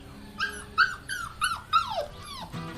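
A puppy whimpering from under a tractor, a series of about seven high, thin whines and yips in quick succession, close and fairly clear.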